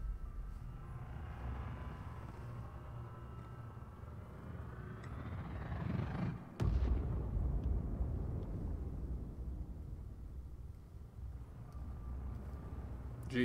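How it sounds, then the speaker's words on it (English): A big bomb explosion in the game Pillars of Eternity 2: Deadfire, a steady low rumble broken by one sudden loud blast midway, followed by a deep booming roar that slowly settles. "Jesus, that is a big bomb."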